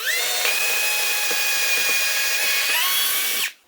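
A power drill bores a hole during a garden office setup, its motor whining loudly and steadily for about three seconds before spinning down and stopping abruptly, with no talking.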